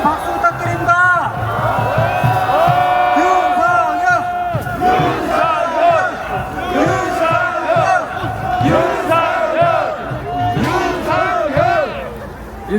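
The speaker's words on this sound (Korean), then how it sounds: "다시 한번 큰 박수 부탁드립니다" A large crowd at a political rally in a city square at night roars and chants in loud repeated bursts, voices shouting together at close range.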